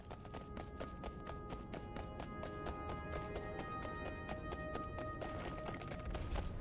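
Rapid hoof beats of a horse galloping in World of Warcraft, a steady running clip-clop at even loudness over music and ambient game sound.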